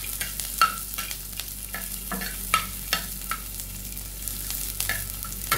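Sardines frying in a pan, cooked Filipino province style: a steady close sizzle with spoon-stirring scrapes and light clinks at irregular intervals, no voices.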